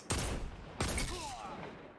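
Two sharp hand cannon shots fired from the hip in the video game Destiny 2 ring out close and loud, each cracking blast trailing off into a decaying echo with faint whistling tones.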